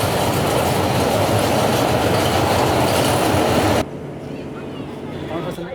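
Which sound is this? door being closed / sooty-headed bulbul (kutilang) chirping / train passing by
train passing by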